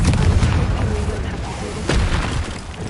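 A Confringo blasting spell exploding in Hogwarts Legacy: booming blasts and dense rumbling impacts, loud and close, with a second burst near the end and a voice speaking over the start.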